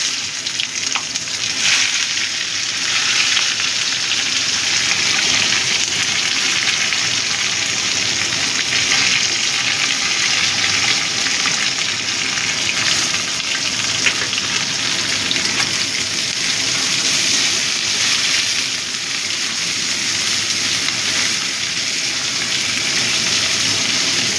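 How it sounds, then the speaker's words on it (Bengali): Chopped onions hit hot oil with bay leaves for a mutton keema and jackfruit curry, raising a loud, steady, broadband sizzle that carries on without a break. "এবার পেঁয়াজ কুচিটা দিয়ে দিচ্ছি।"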